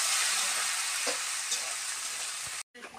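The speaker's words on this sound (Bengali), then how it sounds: "ভালো করে দেখো কষানো হয়ে গেছে, এবার এর মধ্যে জল দিয়ে দেবো।" Water goes into a pan of sautéed jackfruit and prawn masala, raising a loud, steady sizzle and bubbling that briefly cuts out near the end before resuming, with no talking.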